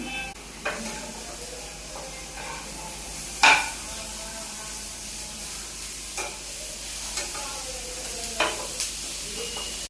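Masala roasts in a pan with garlic, tomato and coriander, giving a quiet, steady sizzle broken by occasional scraping stirs and one sharper clatter of the spoon against the pan.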